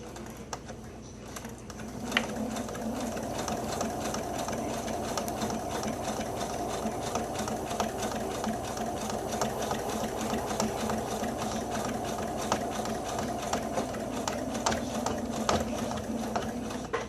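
A sewing machine stitches steadily around the edge of a fabric face mask, a close, continuous fast mechanical whirring and clatter that starts after a brief quieter moment and runs without a break.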